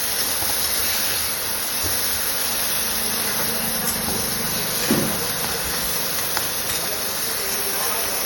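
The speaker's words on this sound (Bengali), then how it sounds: "একটা কড়াইয়ে চিংড়ি মাছ ভাজা হচ্ছে" Prawns frying in hot oil in a wok give a loud, steady hissing sizzle that runs without a break, with a faint clatter now and then.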